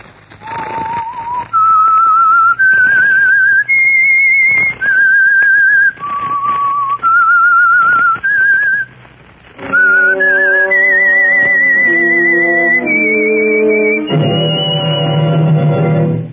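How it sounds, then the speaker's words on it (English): A lone whistled melody of clear, sustained notes rises and falls, then shifts to a fuller orchestral chord backing in the second half; the signature theme of the old-time radio program The Whistler. "That whistle is your signal"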